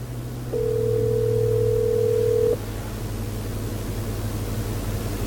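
A Toyota Land Cruiser's Apple CarPlay system sounds a single steady ringback tone for about two seconds over the low hum of the vehicle cabin, with no one speaking.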